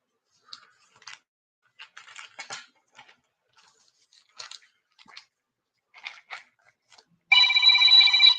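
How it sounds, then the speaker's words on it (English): A telephone rings loudly for an incoming call, a steady electronic ring that bursts in at the end after a stretch of faint scattered taps and rustles. "We got a phone call coming in."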